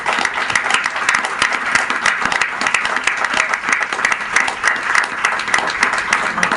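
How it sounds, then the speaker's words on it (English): Dense, loud applause from an audience at a 40th anniversary event for the Young Lords Party, sustained and even throughout. "how about some applause for the 40th anniversary of the Young Lords."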